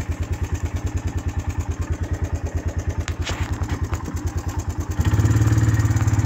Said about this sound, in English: what you hear tapping is the valves